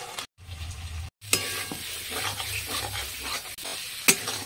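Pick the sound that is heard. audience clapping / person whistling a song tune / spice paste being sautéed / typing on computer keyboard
spice paste being sautéed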